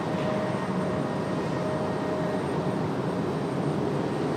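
A JetBlue airliner in Dunkin livery at Raleigh-Durham airport gives a steady, loud broadband engine roar that holds evenly throughout with no voices.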